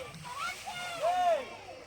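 A Ganesh idol drops into deep lake water during immersion, giving one brief splash and slosh amid the outdoor festival crowd, with voices and a whistle-like tone nearby.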